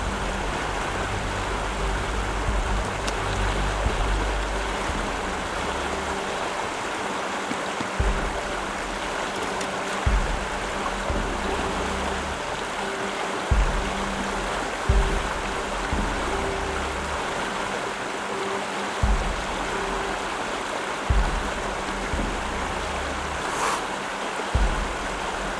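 Flowing river water rushes steadily and fairly loud, a continuous broadband wash with soft periodic low thumps, heard alone without voices.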